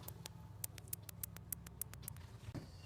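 A push button on a car stereo is pressed over and over, giving a quick, even series of about a dozen small sharp clicks. The clicks are very quiet against a low background hum.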